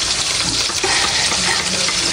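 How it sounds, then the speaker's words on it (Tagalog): Onion and garlic sautéing in hot oil in a pan for lumpia filling, a steady broadband sizzle with faint stirring scrapes, close and fairly loud throughout. "tayo po yung magigisa ulit. Lalagay ko na po itong sibuyas at bawang"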